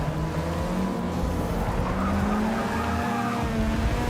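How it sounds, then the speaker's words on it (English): Locked brakes skid the tires in the Forza 6 racing game, a sustained squeal riding over a steady engine drone for several seconds. "That time I tried to pull it more and I started locking them up"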